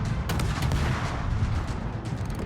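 Naval guns firing in a naval battle video game, dense loud booming blasts with rumbling low end, continuous and close throughout.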